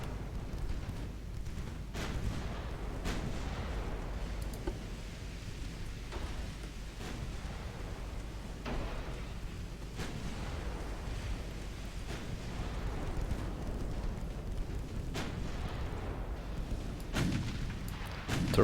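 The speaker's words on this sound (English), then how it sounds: "Torpedo detonation." Naval gunfire and torpedo detonations in the Ultimate Admiral Dreadnoughts game, set in a British 1900 campaign, with repeated deep booming blasts and rumbling impacts rolling over a steady low roar, no talk.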